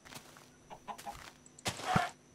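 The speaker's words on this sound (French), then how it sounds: "Ah la poule." A chicken clucks in a Minecraft game, with several short clucks scattered over game background sounds, followed by a louder burst and a final squawk-like cluck.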